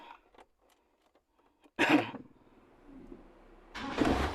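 A bi-fuel petrol and gas car engine cranks and catches after a quiet pause, giving a loud close burst followed by a rough idle and a second surge.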